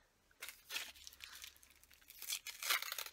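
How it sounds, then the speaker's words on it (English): T2 tea gift being unwrapped from tissue paper, with close, bursty crinkling and tearing of the paper in several loud rustles, no talking. "So let's unwrap it."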